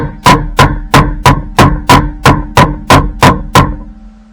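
A hammer strikes hardened saw blade steel in a workshop, landing about ten loud, close, evenly spaced metallic knocks, each ringing briefly before the next, with no speech.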